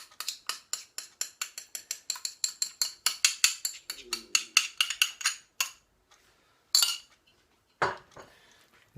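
A utensil clinks and scrapes rhythmically against a pan while tomato paste is stirred into tomatoes for a BBQ chilli, in a fast run of close, bright strikes that slows and then stops, leaving a few isolated knocks.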